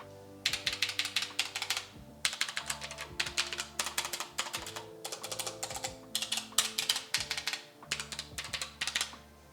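Rapid clacking keystrokes on a Redragon Horus K618 low-profile mechanical keyboard, typed in several dense bursts with brief pauses, close and clear with no talking.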